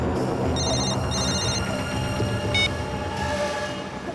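A telephone rings in a tense indoor scene, its bright electronic trill sounding in short bursts over a steady, dense dramatic music bed, with no one talking.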